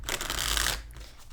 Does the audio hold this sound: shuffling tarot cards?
yes